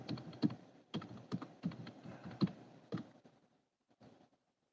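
Typing a name on a computer keyboard: a series of close, quiet key clicks in irregular bursts, trailing off into near silence.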